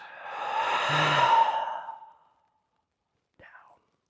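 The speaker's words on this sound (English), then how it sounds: "the more forceful you can be with your breath at the top, the more air you can get out of your body" A forceful yoga exhalation pushes air out in one long, breathy rush that swells and fades over about two seconds, followed by silence and a brief faint breathy sound.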